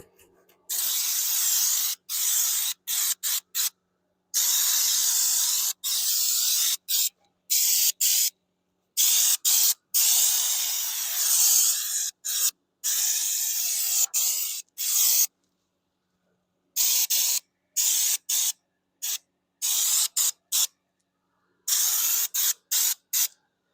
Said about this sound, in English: I'm gonna go ahead and spray it.